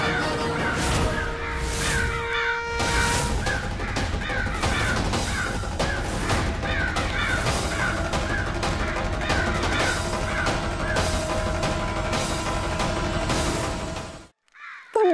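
A crow caws repeatedly in a Hindi fantasy drama, with harsh calls over dense dramatic music and crashing effects, sustained for about fourteen seconds before cutting off abruptly.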